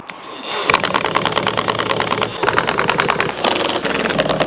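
Power driver running Torx screws with plastic washers into a panel in a Defender, a rapid continuous rattling buzz close by that lasts nearly the whole stretch.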